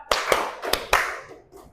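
Four sharp hand claps, close and loud, made by a teacher demonstrating a clapping pattern in a logic exercise, struck in quick, slightly uneven succession with a short ringing decay after the last.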